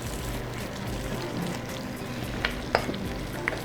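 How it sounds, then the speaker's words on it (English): Beef browning in a covered Dutch oven gives a constant close sizzle and hiss, with a few sharp clicks and pops near the end. "Close our Dutch oven back down so we can brown the beef."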